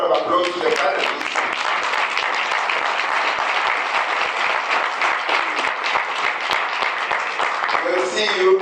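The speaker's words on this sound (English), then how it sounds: "let's give a round of applause to the panelists" Steady audience applause for the panelists at the close of a UNESCO policy dialogue forum, with crisp individual claps audible in the sustained crowd sound and voices briefly at the start and end.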